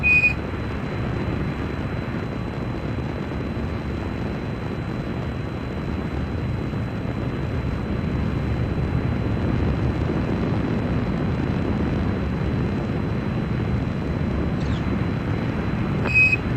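Space shuttle launch engines in the Kerbal Space Program video game, a continuous broad roaring rumble held at a steady, loud level throughout, with brief faint beeps at the start and end.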